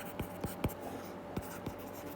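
Pen strokes on a board during a Class 11 physics lecture on units: about five short, sharp scratchy taps at an uneven rhythm, close and fairly quiet, with no talking.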